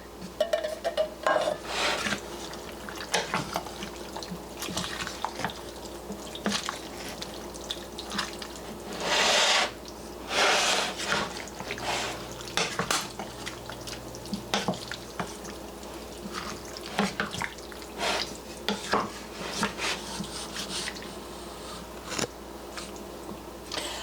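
Del Monte stewed tomatoes with basil, garlic and oregano go into a pot of hamburger soup and are stirred in, giving wet sloshing, scraping and clinking of a utensil against the pot in irregular bursts, fairly close.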